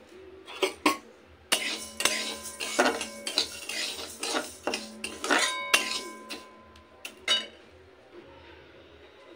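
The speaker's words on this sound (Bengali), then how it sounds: "প্রথমেই আমি শুকনো কড়াইয়ে ডালটা হালকা ভেজে নেব" Lentils are dry-roasted in a dry wok, with dry rattling grains and repeated metallic scrapes and clinks of a utensil against the pan in irregular bursts, then quieter.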